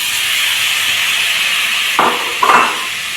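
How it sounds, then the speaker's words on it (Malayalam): Two large chopped tomatoes hit hot oil in a pan with spices, a steady loud hiss with two sharp bursts of fresh sizzling near the end, close by. "ഇനി ഇതിലേക്ക് ഞാൻ തക്കാളി ചേർത്ത് കൊടുക്കാണ്."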